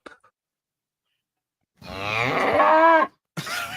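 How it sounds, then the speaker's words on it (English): A cow moos once in a long, loud, close call, followed by the start of a second moo after a short pause. "That's a cow. It's got udders."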